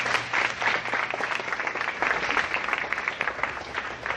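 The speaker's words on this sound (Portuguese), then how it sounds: "vamos aplaudir a Jesus" Church congregation clapping after a baptism call, a dense sustained round of many hands that stays level and fairly close for several seconds with no talking over it.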